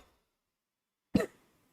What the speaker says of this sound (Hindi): अरे सॉरी यार, माइक पे खांस दिया